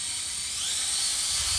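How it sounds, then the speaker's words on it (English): A high-pitched whine of a small electric drill running steadily as it drills holes in a garden frog ornament, thin and close, with no talking. "I'm going to drill a few holes around the eyeball here."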